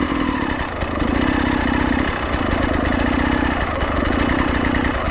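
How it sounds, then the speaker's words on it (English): An enduro motorcycle engine runs steadily and loud at close range while the clutch is slowly eased out, holding a continuous rough drone with a brief dip near the start. "Start the bike, slowly remove the pressure from the clutch lever and feel that point"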